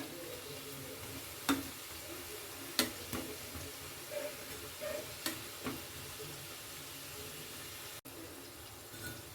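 Bengali-style khasta kachori stuffed with sattu fry in hot oil, giving a soft, continuous sizzle with occasional sharper pops and clicks, quiet and close, with no talking.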